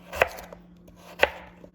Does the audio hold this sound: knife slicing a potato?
yes